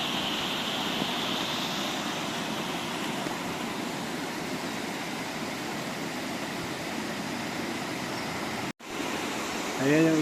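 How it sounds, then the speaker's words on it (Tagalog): A river runs low after the rain has eased and flows straight to the sea, giving a continuous broad rushing wash. The sound cuts out briefly near the end, and a faint voice follows. "ayan yung ilog"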